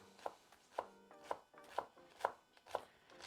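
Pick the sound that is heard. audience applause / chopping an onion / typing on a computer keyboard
chopping an onion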